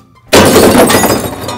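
A glass bottle shatters in one loud, sudden crash, and the breaking fragments ring on and slowly fade over the next second.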